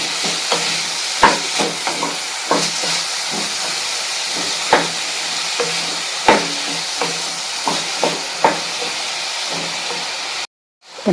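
Sliced kohlrabi cooks in a salted pan with a steady close hiss and sizzle, broken by occasional clinks and scrapes of a stirring spoon against the pan, and no voices.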